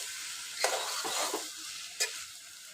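Chana dal frying in hot oil in a pan: a steady close sizzle with a few stirring scrapes and clinks, no voices.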